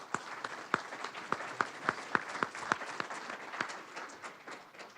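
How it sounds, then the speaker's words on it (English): Sparse, scattered handclaps from a small audience at a Madison mayoral candidate forum, individual sharp claps spaced unevenly and fading toward the end rather than building into a full roar. "Let's get a round of applause for the candidates."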